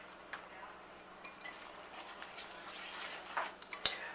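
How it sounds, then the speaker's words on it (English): Cornbread batter with cheese being whisked in a bowl, soft scraping and clinking of the whisk with faint taps, quiet and close, with a sharper clink near the end. "whisk it up"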